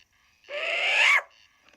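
A female short-eared owl gives a bark call: one harsh, raspy, drawn-out note lasting under a second, loud and close against a quiet background.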